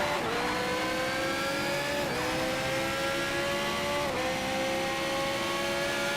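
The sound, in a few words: Pagani Huayra car engine in Need for Speed Shift 2 video game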